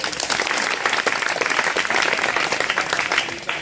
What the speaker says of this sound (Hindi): चलिए ताली के लिए आ जाओ।